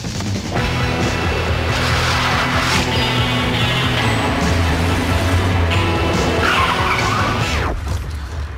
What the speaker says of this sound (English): I drive off then, shall I?